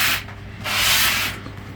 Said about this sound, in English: sanding all edges down